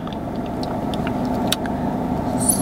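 Inside a moving car on the way to an event, a steady engine and road hum runs continuously, with scattered light clicks and rattles throughout.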